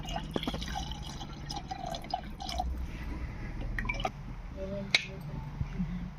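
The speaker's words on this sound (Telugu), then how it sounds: "కొంచెం చింతపండు పులుపుకి సరిపడా వాటర్ పోసుకోవాలి" Tamarind water is poured into a pot while cooking pepper rasam, a soft liquid trickle with small drips and splashes, faint and close, with a few quiet words of talk.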